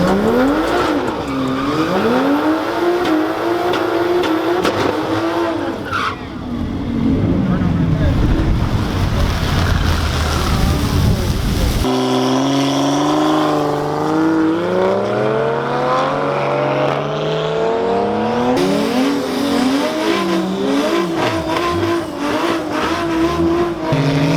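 A race car on a drag strip at TX2K22 drag race qualifying, its engine howling loud and close as revs climb and fall across several gear changes, with a brief dip before another hard run.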